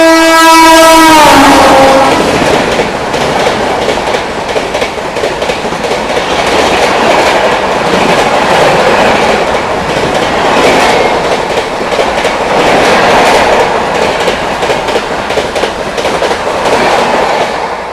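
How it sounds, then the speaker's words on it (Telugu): An SMBT Bengaluru–Guwahati superfast train sounds its horn, then roars past at about 130 km/h with loud, sustained rumbling and clickety-clack of wheels over the rails, very close and filling the whole stretch. "SMBT Bengaluru Guwahati super fast 130లో వస్తుందండి"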